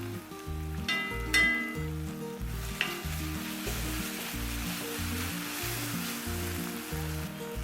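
Tomatoes sautéing in a pan over a low flame for a green peas curry, a close, steady sizzle with a couple of crisp stirring clinks over a repeating low rhythmic background.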